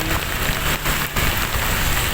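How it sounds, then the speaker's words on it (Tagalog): Loud, dense rain pours continuously, a thick roaring hiss with a couple of brief dips in intensity; no one speaks. "Ang lakas ng ulan."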